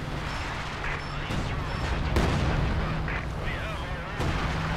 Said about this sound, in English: Tyler, you need constant Sexton barrage